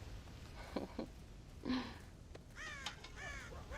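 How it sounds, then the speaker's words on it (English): Crows cawing in Red Dead Redemption, several harsh calls spread across the clip, with the last ones louder and rougher over quiet ambience. "God damn crows!"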